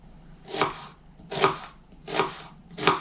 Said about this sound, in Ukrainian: Цибульку нарізаю кубиком